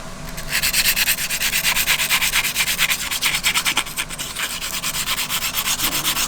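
Close, rapid brushing strokes scrub over a Golf GTI Mk6 engine part in a quick, even back-and-forth rhythm, loud and dry with no talking.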